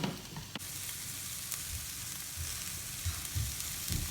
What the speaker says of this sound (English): All of the meat and all the vegetables are starting to brown like they're supposed to.